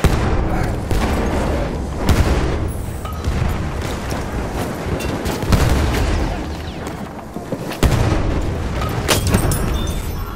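A grenade blast amid continuous battlefield noise in Battlefield 1's Argonne Forest conquest mode, with loud, dense booms and gunfire rumbling throughout and sharp explosive hits standing out near the start and end.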